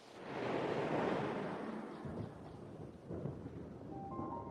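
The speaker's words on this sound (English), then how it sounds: "Clouds build and thunder echoes across the plains." Thunder rolls across open savanna plains as monsoon clouds build, a deep, distant rumble that swells, fades and returns in softer growls, with no voices.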